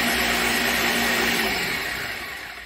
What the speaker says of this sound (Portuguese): E vamos bater aqui no liquidificador.